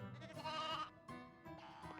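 A sheep bleats in the Toy Story 2 video game, giving two or three wavering, close cries in quick succession and nothing else.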